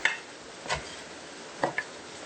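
A knife chops fresh basil leaves on a cutting board, giving a few sparse, light taps and clicks close by, with no talking.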